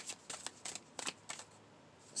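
A deck of tarot cards is shuffled in several short, crisp riffling bursts with brief pauses between them, close and quiet, with no speech.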